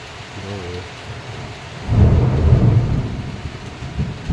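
Steady rain hiss with a deep rumble of thunder rolling in midway, swelling and lingering at low pitch before fading back toward the rain.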